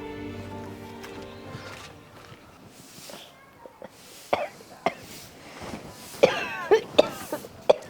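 Several harsh coughs come in a loose cluster, some close and sharp, after a stretch of quieter background sound in a home setting.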